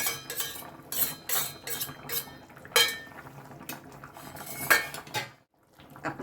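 A spoon clinks and scrapes against a pot as dissolved cornflour is stirred into vegetable chicken soup, in a run of bright metallic taps and clatters, close, with a short pause near the end.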